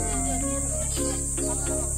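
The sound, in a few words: cicadas buzzing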